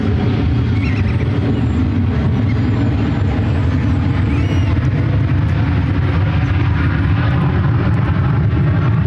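A KLM Boeing 787-9 Dreamliner's jet engines roar steadily at San Francisco airport, a loud, continuous broadband rumble that holds without a break throughout.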